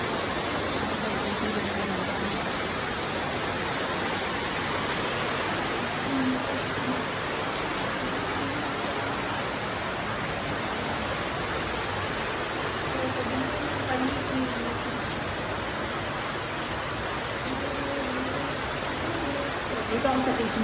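Heavy rain heard from inside a basement, a dense, continuous hiss of downpour holding steady throughout, with faint voices murmuring underneath.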